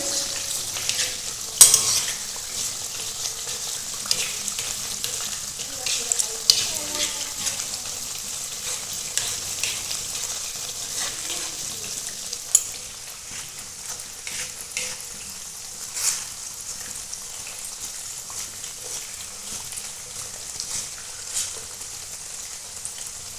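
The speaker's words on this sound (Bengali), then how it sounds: "গ্যাসের দমটা মিডিয়াম রেখে এটা ভেজে নিয়েছি" Homemade lachcha semai vermicelli fries in a pan on a gas stove at medium flame, giving a continuous low sizzle broken by occasional stirring clicks and scrapes, steady and close for the whole stretch.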